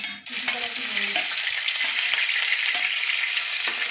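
Dried red chilies frying in a tablespoon of oil for a Bangladeshi sweet-and-sour tomato khatta, a steady close sizzle that starts abruptly and holds with faint scrapes.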